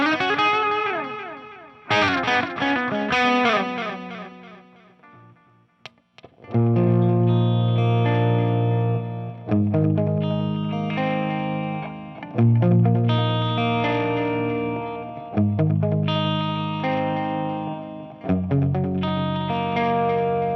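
An electric guitar plays through a 50W Marshall JCM800 clone with a delay pedal in the effects loop, giving loud, distorted chords and riffs with echoing repeats in bursts separated by short pauses.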